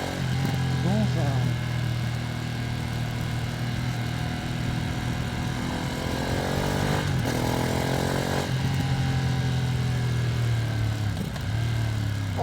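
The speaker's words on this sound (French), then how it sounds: "Oh le frein moteur il est abusé quoi." Ducati Streetfighter V2S 2025 motorcycle engine braking, a loud, steady near engine drone with falling and rising harmonic sweeps as revs drop on deceleration, running throughout.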